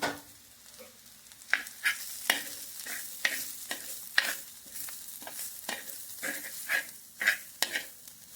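Bitter gourd and grated coconut stir-fried in a pan for a Kerala thoran, with a low sizzle under repeated scraping and clattering strokes of a spoon, rhythmic and close, with no talking.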